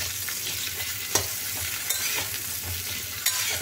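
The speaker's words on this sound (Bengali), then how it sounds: "বেগুন কাঁচকলা দিয়ে দিলাম, সব একসাথে কষে নিচ্ছি" Brinjal and raw banana stir-fried with a spatula in a pan, a constant sizzle of oil broken by a few sharp scraping clicks from the spatula, close and fairly loud.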